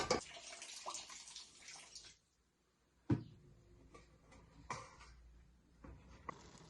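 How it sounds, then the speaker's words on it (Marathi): Water drained off freshly cooked Maggi noodles in a home kitchen, a splashing pour for about two seconds, then a pause followed by scattered clatters and knocks of the pot. "यातलं जरा पाणी काढून घेणार आहे मी."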